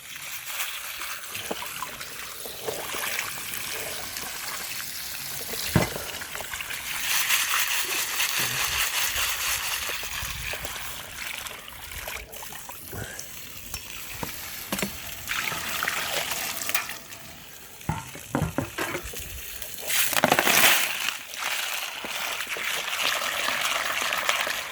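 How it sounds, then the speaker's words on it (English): Water from a hose gushes and trickles over freshly tumbled ocean picture stones during a rinse, a steady close splashing wash with brief louder bursts and no speech. "All right, hit it with the water real good."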